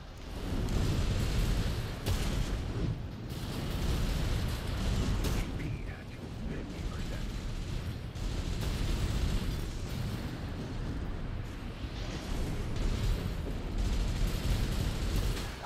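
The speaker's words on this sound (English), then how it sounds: "Hope some of that napalm got him." Dense, continuous roar of napalm fire and rumbling explosions in Armored Core 6 PvP combat, a steady loud wash with repeated bursts and booms throughout.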